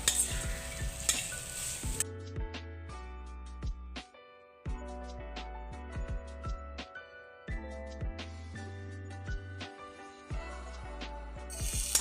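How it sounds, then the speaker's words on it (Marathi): A traditional Marathi kurdai vegetable dish is stirred and sautéed in a pan with soft sizzling and scraping, repeated in short bursts over steady tonal background sound. "आता हे सगळं आपण परतून घेणार आहोत एक पाच मिनटं"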